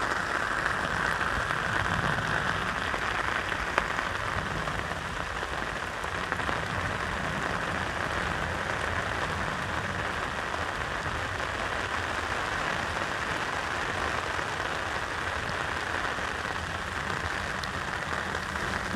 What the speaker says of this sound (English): The rain's got really heavy.